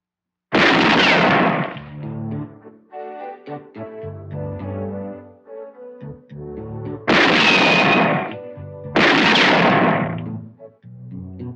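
Three loud, sharp gunshot blasts, one early and two close together later, with quieter tonal sounds filling the gaps between them.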